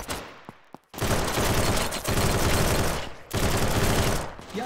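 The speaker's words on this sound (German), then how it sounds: "Da habe ich jetzt gerade gar nicht gezielt, habe ich einfach nur geballert." Rapid, sustained automatic gunfire in the VR shooter Contractors, loud bursts filling most of the stretch after a brief quieter start, with short gaps between volleys and no talking.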